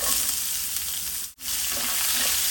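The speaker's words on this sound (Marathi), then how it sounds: "यात आपण बारीक चिरलेला कांदा घालूया।" Finely chopped onion frying in hot oil with bay leaf, cinnamon, cumin and mustard seeds for a drumstick curry, a steady close sizzle with one brief drop in the middle.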